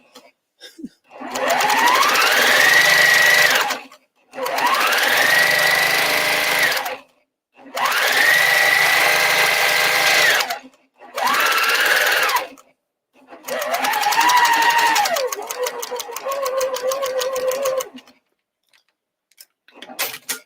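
A sewing machine stitches white fabric onto black fabric in five distinct bursts, each a whirring run of a few seconds separated by short pauses, the machine's pitch rising as it speeds up; no one talks over it.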